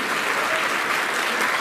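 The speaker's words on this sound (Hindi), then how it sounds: "माननीय मुख्यमंत्री जी का जोरदार तालियों से स्वागत कीजिए" Audience in an auditorium at AIIMS Gorakhpur clapping loudly and continuously to welcome the Chief Minister, a dense, steady wash of applause with no talk over it.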